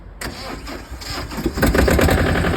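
A tractor with a differential lock and power take-off cranks and fires up, a brief starter whir building into a loud, close engine that catches and settles toward idle.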